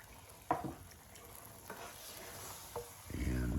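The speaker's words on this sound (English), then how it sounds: "And mix and mix and mix." A pan of thickening biscuit gravy is stirred as milk is mixed in, giving a few soft scrapes and clinks over a quiet sizzle, with a louder burst of bubbling at the end.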